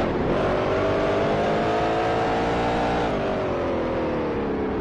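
A race car in the Grand Prix Legends racing game drones loudly and steadily with a buzzy engine tone that holds a high pitch, then drops partway through, with no voices over it.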